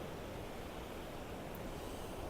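Ocean waves crash against the cliff at The Gap, a steady, loud roaring wash of surf that fills the whole stretch without pause, with no voices.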